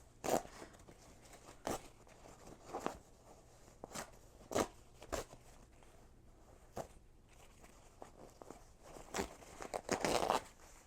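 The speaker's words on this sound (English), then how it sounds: "this is just a tear away, so I'm going to tear away most of this" Tear-away stabilizer is ripped off the back of an embroidered mug rug in a series of short, quiet tearing rips spaced a second or two apart, with a busier crackling tear near the end.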